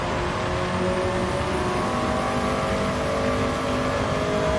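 A Nissan S14 Silvia with an engine swap and a medium turbo revs steadily in Gran Turismo 7, a loud continuous engine drone with a rising whine holding throughout, no talk.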